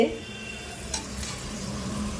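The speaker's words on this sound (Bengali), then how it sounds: "এইখানে করছি হলো পেঁয়াজ ভাজা শুকনো লঙ্কা ভাজা" Steady sizzling of onions and dried chilies frying in a pan, with a soft scrape of stirring now and then; close and continuous, no voices.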